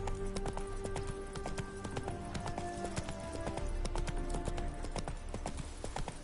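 Horse Roach galloping in The Witcher 3, rapid rhythmic hoof clip-clops pounding steadily and close throughout, with a snort or whinny woven in.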